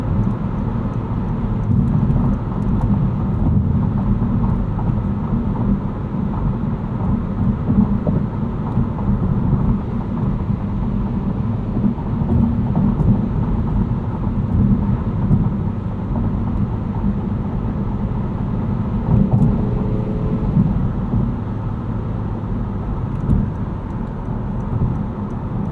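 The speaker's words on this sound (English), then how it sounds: "Quite a bit of tire noise on this pavement surface." A 2022 Honda Civic Si cruises at night on pavement, with a steady, loud roar of tire noise from inside the cabin that persists throughout with no talking.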